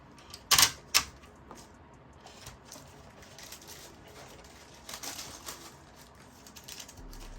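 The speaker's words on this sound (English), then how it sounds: "I'm just going to organize the paper and then just simply place it in here." Sheets of Tat2Skin stencil paper are set into the tray of a Canon Pixma GM2040 printer, giving two sharp close taps near the start, then faint rustling and soft knocks.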